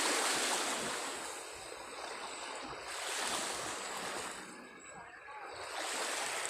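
Rough sea churns under typhoon winds, a broad wash of surf swelling and easing in slow surges with wind buffeting the microphone, fairly faint overall.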